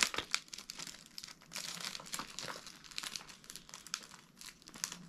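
A Temu plastic package is torn and opened close up, giving soft, continuous crinkling and rustling with occasional sharper crackles, fairly quiet throughout.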